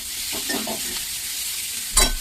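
Ingredients for a healthy veg chicken salad stir-fry in a pan over a gas flame. A soft hiss runs under a few stirring scrapes, and a sharp clink of utensil on pan comes near the end.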